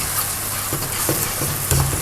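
White sugar heated and stirred in a pan to make caramel, a steady broad sizzle with occasional scraping stirs, close and fairly loud, no talking.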